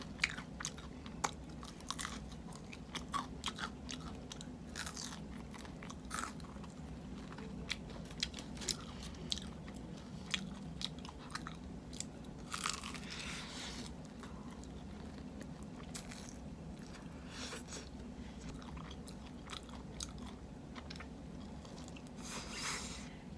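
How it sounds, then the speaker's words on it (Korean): Chicken wings chewed close to the mic, with soft crunches and wet bites repeating steadily through a quiet indoor room and no talk. "윙 먼저 먹을게요"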